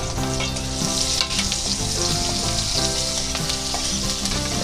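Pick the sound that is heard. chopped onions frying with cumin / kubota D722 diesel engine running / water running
chopped onions frying with cumin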